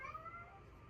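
A house cat meows with a short, rising call, faint and close, over a quiet room.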